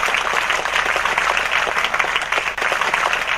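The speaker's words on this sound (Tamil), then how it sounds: "இன்னும் நல்ல கைத்தட்டலை நீங்கள் தரலாம்" An audience at a women's association event in Tiruchirappalli applauds in a dense, steady wash of clapping that fills the room without pause, with no speech over it.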